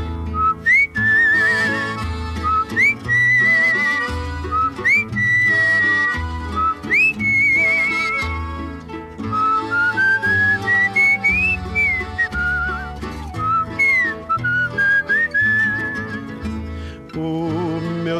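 A person whistles a bright, lilting tune with a steady rhythm over an instrumental backing, clear and prominent throughout.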